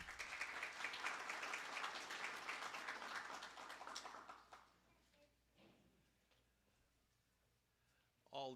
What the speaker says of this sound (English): All the applause goes to Bob.